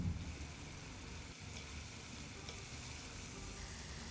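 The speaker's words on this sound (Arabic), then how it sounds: "هقلب كويس جدا" Tomatoes with salt and spices cook in a pan for rice and are stirred, making a soft, continuous sizzle with faint stirring scrapes. The sound is quiet and there is no speech.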